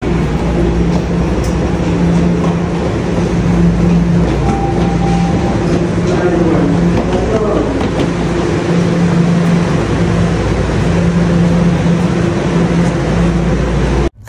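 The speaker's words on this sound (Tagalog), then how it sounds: "So ayan, nakita ko na nga yung train." A subway train pulls into a station with a loud, sustained rumble and a steady motor hum, wheels clattering on the rails as it draws near, with no talk over it.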